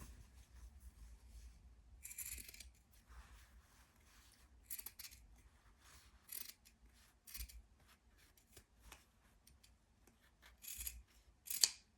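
Oversized scissors snip through paper in a series of sharp, separate cuts at uneven intervals, close and crisp against a quiet background.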